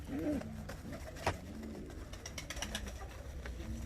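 Ornamental show and costume pigeons coo softly at a low level, with faint rustling and a brief sharp knock in a quiet setting.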